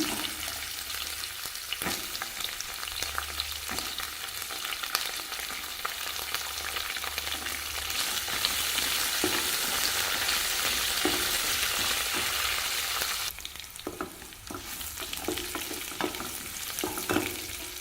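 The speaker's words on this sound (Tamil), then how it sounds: "நெல்லிக்காயும் சேர்த்து நல்லா வதக்கிக்கலாங்க" Indian gooseberries and dried red chillies frying and being stirred in a hot pan, a steady close sizzle with scraping stirs throughout, no voices.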